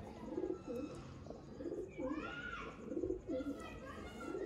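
A golden type pigeon cooing close by, soft repeated throaty coos in a regular rhythm, with a voice and faint background noise around them.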